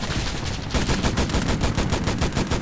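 Rear gunner's machine gun on an H6K4 flying boat in War Thunder fires a sustained rapid burst of evenly spaced shots, loud and close, without talking.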